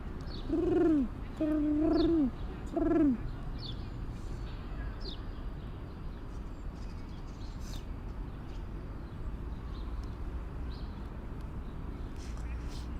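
Three low, throaty pigeon coos in quick succession near the start, then only a steady Manhattan street hum with faint distant chirps.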